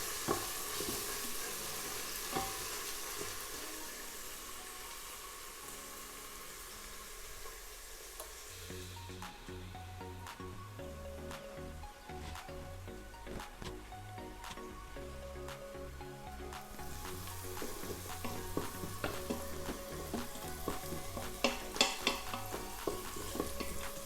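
Onions frying with salt in an Instant Pot, a soft, moderate sizzle that shifts in tone partway through, punctuated by sharp clacks of a spoon stirring against the inner pot, with no voices.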